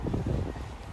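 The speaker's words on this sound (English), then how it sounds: "it is windy today" Wind gusts across a commercial standing seam metal roof near a valley panel, a steady close rumbling whoosh buffeting the microphone for a brief moment.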